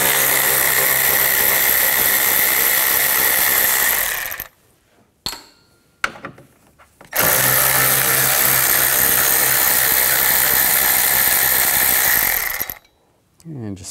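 Power tool loosening bolts with a 10 mm socket while removing the front catalytic converter on a 2007-2016 Chevy Traverse; loud, steady whirring bursts run for several seconds, break off, then resume.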